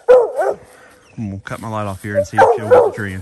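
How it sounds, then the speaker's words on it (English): Coonhound barking on a night raccoon hunt in southern Ohio, a run of close, loud, drawn-out bawling barks against the woods while someone talks over the start. "Barking at least."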